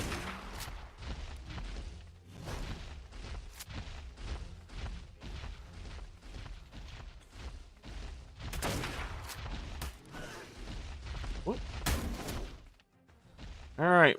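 Gunshots in the video game Ark, fired one after another in a steady series of sharp, moderately loud reports, with a person talking between and over them.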